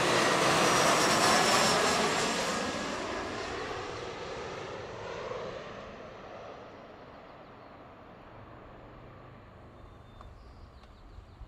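A Delta airliner jet roars loudly overhead while landing at Seattle, its broad engine rush peaking early and then fading gradually into the distance.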